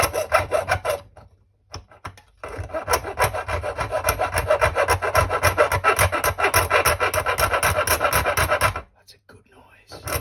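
A small hand saw cuts a scale model leg part held in a mini miter box, giving a steady, close, rasping back-and-forth stroke rhythm after a brief pause, with no talking.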